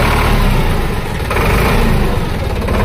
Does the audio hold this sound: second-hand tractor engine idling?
yes